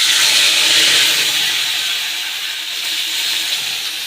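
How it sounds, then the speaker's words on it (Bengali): Tomato, cumin, ginger, coriander and chili paste goes into hot oil and sizzles with a loud, bright hiss that eases off a little midway and then holds steady, with no talking. "এই যে এবার এই মশলাটা এই তেলে দিয়ে দেবো"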